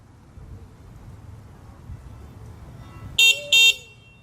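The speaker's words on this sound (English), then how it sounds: "this horn is not muffled and it is scary loud if you're too close" Two short, piercing honks from a car-type horn fitted to a Kaabo Wolf Warrior electric scooter, very loud and close, sounding after several seconds of quiet outdoor rumble.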